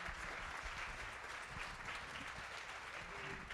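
Steady audience applause at a gala evening for antiques and art, thanking the event's partners; dense, continuous clapping fills the room from start to finish with no voices over it.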